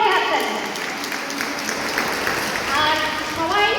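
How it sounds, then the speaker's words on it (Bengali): Loud, sustained applause fills a Bengali New Year (Noboborsho) gathering at the Samastipur BHTC Hall, a steady crowd roar of clapping that swells slightly near the end. "এটা সব বাঙালির জন্য একটা হাততালি, জোরে হাততালি।"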